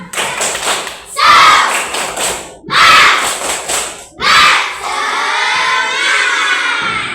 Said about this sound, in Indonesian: Yo, 1, 2, 3, tepuk semangat.